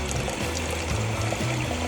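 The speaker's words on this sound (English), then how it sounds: "So right now I'm filtering some water." Creek water being squeezed from a bottle through a LifeStraw filter, giving a close, continuous trickling and pouring sound with low gurgles, with no talking.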